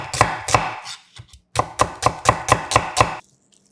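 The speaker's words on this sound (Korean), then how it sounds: "달큰한 양파 반개는 살짝 굵게 채 썰어 준비하고" A knife cuts half of a sweet onion into thick strips on a cutting board, giving a close run of sharp, evenly spaced chops with a short pause partway through.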